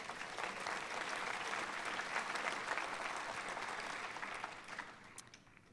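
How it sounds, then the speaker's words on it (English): Steady, dense applause from an audience at an environmental design commencement ceremony, sustained for several seconds before tapering off. "Let's give her a round of applause."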